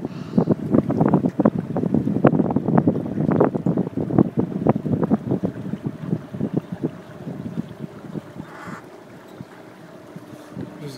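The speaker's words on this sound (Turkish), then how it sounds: "Rüzgar çıkmaya başladı" Gusty wind buffeting the microphone, loud and rumbling, with water splashing and a boat moving through it on Lake Neusiedl.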